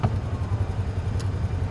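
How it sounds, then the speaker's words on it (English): Cars on a street with UTVs nearby, a steady low engine rumble from vehicles passing close by, continuous and fairly loud with no talk. "There's some cars and stuff coming."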